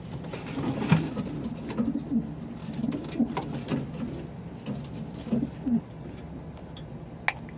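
Pigeons coo softly and repeatedly, low throaty calls recurring through the stretch at moderate distance, with faint background clatter and no speech.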